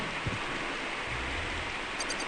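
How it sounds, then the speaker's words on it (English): Steady, loud rain in Castlevania: Symphony of the Night forms a continuous dense hiss, with a faint low rumble near the start and no voices. "But yeah, the rain is very loud."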